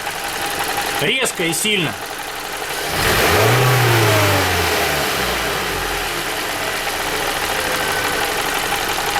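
A Toyota Valvematic engine with a knocking fault is revved sharply and hard. A short burst of speech comes first, then a loud rising rev settles into a steady, rough high drone that lingers.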